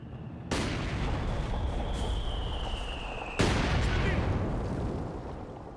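Katyusha rocket artillery barrage in Company of Heroes 2, a loud sustained roar of launches that kicks in abruptly, with a thin whistling tone and a second heavy surge partway through before slowly fading.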